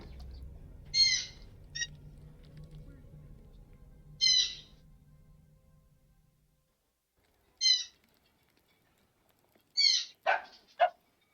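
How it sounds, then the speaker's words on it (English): Dogs bark and birds call in the background, heard as several short, spaced bursts over a low rumble that fades to quiet, ending with a quick cluster of calls. "it's just the birds and dogs acting up."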